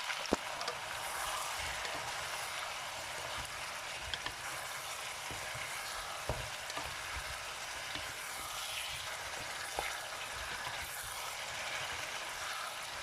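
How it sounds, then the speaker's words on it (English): Chicken pieces frying in sweet soy sauce for ayam masak kicap, a steady bright sizzle and crackle with occasional scrapes of stirring, close and without talk. "You just fry maybe for 2 minutes, then it's ready."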